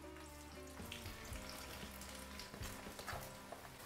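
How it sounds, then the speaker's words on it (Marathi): Sliced onions frying in hot oil for a Hyderabadi dum biryani, a steady close crackling sizzle running throughout with soft stirring and bubbling, no voices. "तेल तापलेलं आहे. आता सगळा कांदा छान फ्राय करून घेऊया."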